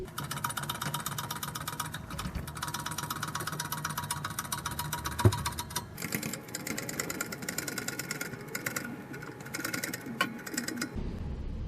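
A wheel hub being pressed into the front wheel bearing of a 2000 Toyota 4Runner 4WD: a steady mechanical hum runs throughout, with one sharp click or crack partway through and no talking.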